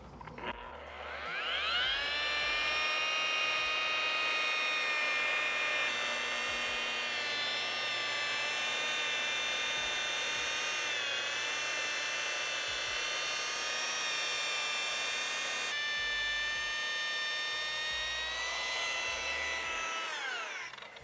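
Machine polisher working Revival Heavy Cut Compound into car paint with light, flat pressure, a steady high whine that spins up, holds for about twenty seconds with slight pitch dips, then winds down, loud and alone with no talk.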